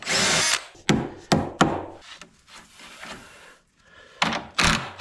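Carriage bolts being hammered into wood for a chicken meat shelter, heard as sharp, loud, close strikes at an irregular pace, with quieter scraping and handling between blows.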